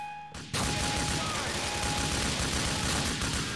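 Loud sustained gunfire erupts after a brief quiet start in GTA: The Lost and Damned, a dense continuous volley of shots during a biker gang shootout, with faint voices underneath.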